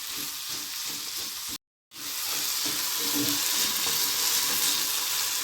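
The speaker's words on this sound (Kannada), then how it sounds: "ಕಡಲೆ ಬೀಜ, ಬೆಳ್ಳುಳ್ಳಿ ಒಂದೊಂದಾಗಿ ಹಾಕಿ ಈರುಳ್ಳಿ ಎಲ್ಲ ಚೆನ್ನಾಗಿ ಫ್ರೈ" Peanuts, garlic and onion fry together in a pan, a loud, dense, continuous sizzle close up with faint stirring, broken once by a brief silent gap before the crackle resumes.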